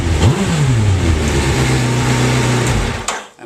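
A Suzuki Hayabusa motorcycle engine blipped up to around 3,000 to 4,000 revs, rising to a loud rev, easing, and holding a strong roar before dropping away, heard close and alone.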